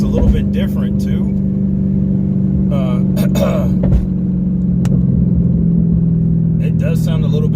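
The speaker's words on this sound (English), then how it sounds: "The exhaust sounds a little bit different too." A Dodge Charger SRT8 with a Corsa Extreme intake and upgraded exhaust idles with a loud, steady low rumble close by, while someone talks over it.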